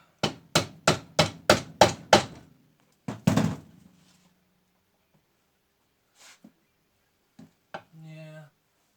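A hammer knocks a starter motor loose on an LT80 engine, striking through a piece of wood in a rapid run of six loud, close thuds, then a few more blows, followed by scattered clinks and a brief voice.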